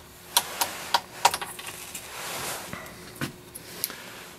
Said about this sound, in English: I put on that 1 1/8 ounce of shot.